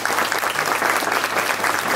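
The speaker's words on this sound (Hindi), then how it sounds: "क्या आप ताली में जा सकते हैं खुदा के लिए?" Congregation applauding in praise of God at a church celebration for a reverend's 60th birthday: dense, steady clapping from many hands that fills the whole stretch with no voices standing out.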